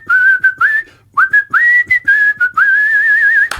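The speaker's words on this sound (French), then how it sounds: "Donc, je pourrais faire mon thème en sifflant." A man whistles a tune alone, clear and close, in bright sustained phrases with short gaps between them, the melody bending and warbling before a brief knock at the end.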